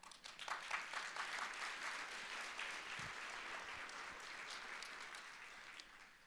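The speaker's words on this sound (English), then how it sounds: "a round of applause to each of you." An audience at a closing keynote session bursts into sustained applause, a dense wash of many hands clapping from a moderate distance, steady throughout with no voices rising above it.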